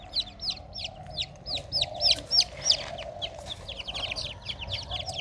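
Chickens and small chicks clucking and cheeping together, a steady run of short bright chirps over lower clucks, close and moderately loud, with no talk over them.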